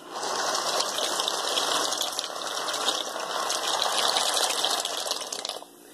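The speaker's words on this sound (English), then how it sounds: "So now let's go ahead and pour in the shells." A one-pound box of dry pasta shells pours in a steady, loud rushing stream into a pot of boiling water, lasting several seconds before stopping abruptly near the end.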